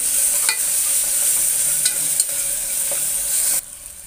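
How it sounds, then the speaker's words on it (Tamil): Ginger garlic paste sautés in a cooker with a steady, bright sizzle and a few clinks from stirring, loud and close, before the sizzle suddenly drops away near the end. "இஞ்சி பூண்டு நல்லா வதங்கிடுச்சு"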